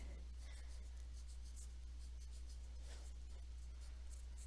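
Pen scratching across the pages of a paper school agenda, a faint, steady writing rasp with soft repeated strokes throughout, heard alone at low level.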